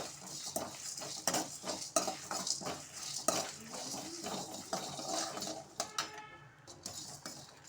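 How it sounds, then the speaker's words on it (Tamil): Mutton varuval with pepper and curry leaves is stirred in a pan, giving repeated scraping clinks of a spoon against metal over a faint sizzle. "இது நல்லா வறுத்துக்கலாம்"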